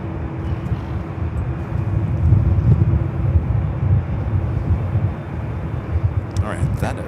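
A Southwest Airlines Boeing 737 MAX 8 arrives on the north side at LAX, its engines making a low, sustained roar that swells and fades slightly. Someone talks over the jet noise, and there are a few faint clicks near the end.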